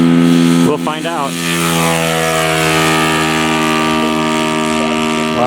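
Top Flite Cessna 182 RC model airplane engine runs loud and close at high revs, a steady buzzing whine with strong harmonics; someone speaks briefly near the start.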